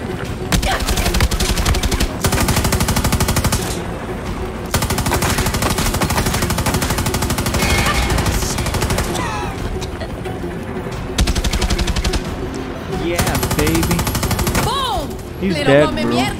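A light machine gun in Far Cry 6 rattles in long, loud, sustained bursts of rapid fire with brief pauses between them, while someone talks at moments over the shooting.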